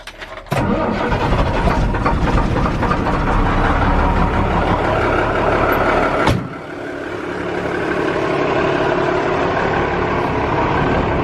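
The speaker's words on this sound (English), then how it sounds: "Let's go crank the L8000. Rip walls. She'll crank. This thing always cranks." A Ford L8000 truck's diesel engine cranks briefly, catches and roars to a loud steady run, then drops to a lower idle after a sharp click, close up and continuous with no talking.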